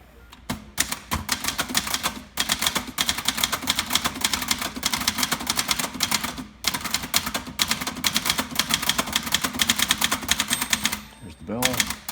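Rapid, continuous clacking of a 1972 Webster XL-747 manual typewriter made by Brother, close and loud, with brief pauses and a carriage return near the end.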